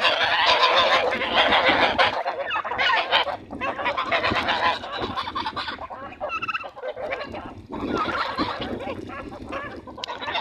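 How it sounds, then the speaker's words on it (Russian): A flock of geese honks loudly and continuously in water alongside Muscovy ducks, with overlapping calls and some softer duck-like hisses mixed in, close by and busy throughout. "Смотрите, и индоутки, и гуси, все в воде."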